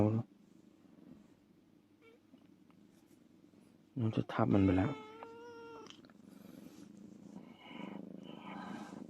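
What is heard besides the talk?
cat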